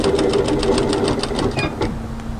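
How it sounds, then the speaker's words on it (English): A sewing machine stitches a side seam through three layers of slippery camisole fabric, a fast, steady close-up needle rhythm that slows near the end. "and we'll sew through the side seam"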